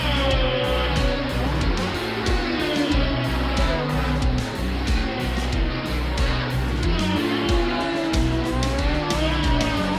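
Formula 1 race cars from the 1982 season racing, with a dense, loud, continuous high-revving engine roar and shifting pitches as several cars run close together, with no break.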